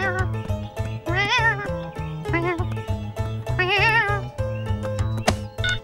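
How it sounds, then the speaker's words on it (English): A cat meows repeatedly, several drawn-out wavering calls over a steady rhythmic musical backing, loud and close. "Meow. Yes, she is."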